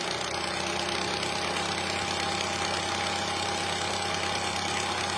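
A Revere Model 80 8mm film projector runs continuously, a steady close mechanical hum and whir with a faint tonal drone and cooling-fan rush, unchanging throughout.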